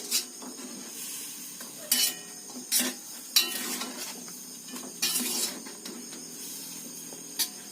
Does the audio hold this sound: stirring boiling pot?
yes